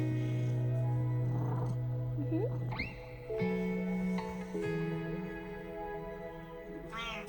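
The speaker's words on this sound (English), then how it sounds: "Can you hear her purring?" A cat's low, steady purr runs under the sounds of close handling and rustling, fading in and out while the cat shifts.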